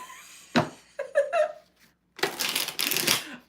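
Tarot cards shuffled by hand in a few quick riffling bursts, then a longer, denser flurry of card noise near the end, close and fairly loud against a quiet room.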